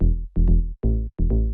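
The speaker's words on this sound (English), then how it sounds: "FM sound like this, and then you just sort of dial it back a little bit with this low pass filter." FM synth bass, dialed back with a low pass filter for a tech house groove, plays four short, muffled notes with a rounded low end, alone and fairly loud.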